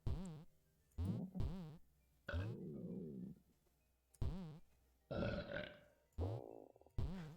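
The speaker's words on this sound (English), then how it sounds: "looks like there's no other interactions, that just makes her burp." A female character in the weight-gain game Lilith's Lair lets out a run of long, wet, guttural burps, about eight separate belches of varying length, loud and close, each broken by brief pauses.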